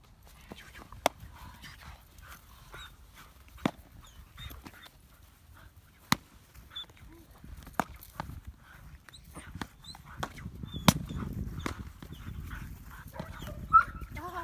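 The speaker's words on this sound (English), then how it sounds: "Now we see if we can get a little bark behind the blind." A dog gives a few short, sharp barks spaced apart, with quieter rustling and low background noise between them.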